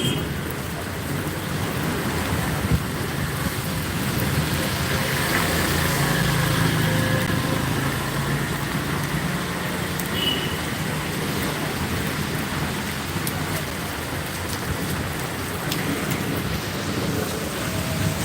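Steady rain falls in Belgharia during a thunderstorm, a continuous broadband wash at even loudness for the whole stretch, with a low rumble underneath and no voices.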